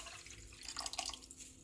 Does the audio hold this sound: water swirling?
yes